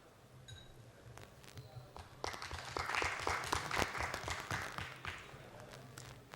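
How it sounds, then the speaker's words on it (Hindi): A small crowd applauds at a public talk on education in Jharkhand, scattered claps swelling into a fuller round of clapping before tapering off, with a voice briefly underneath. "तालियां बजनी चाहिए"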